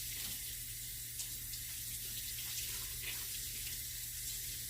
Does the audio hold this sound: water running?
yes